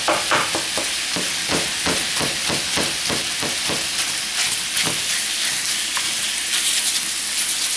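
Italian sausage fries in a pan with a steady bright sizzle while a utensil scrapes and stirs it in quick repeated strokes, close up, no talking.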